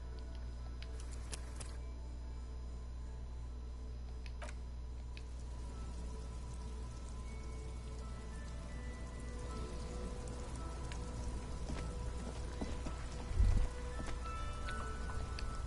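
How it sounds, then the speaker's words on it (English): Rain falls steadily over the great city of Revachol in the game Disco Elysium, a soft continuous patter with faint drips and a low ambient hum, quiet and even, with one brief low thump near the end. "All around you, rain falls on the great city of Revachol."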